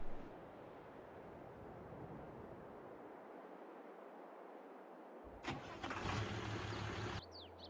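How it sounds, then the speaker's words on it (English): A tractor engine in Farming Simulator 22 cranks and catches, starting up near the end after a long stretch of low ambient rumble; the start is fairly loud and close, then cuts off abruptly. "Was that this tractor starting up because it was getting stuck?"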